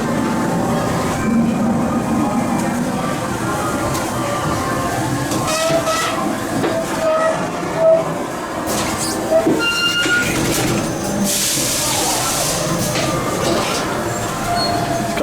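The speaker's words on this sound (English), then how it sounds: "And then I'll be going here on the ghost train." A ghost train ride at the Grand Pier in Weston-super-Mare rumbles into motion, a loud continuous rolling rattle with clacking wheels and occasional whistle-like squeals over a noisy enclosed setting.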